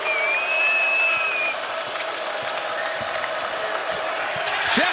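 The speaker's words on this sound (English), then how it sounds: "The crowd is into it here in Fort Dixon." Loud, steady roar of an arena crowd cheering at a TCU Horned Frogs men's basketball game against Iowa State in Fort Worth, with brief whistle-like tones early on and the crowd noise holding throughout.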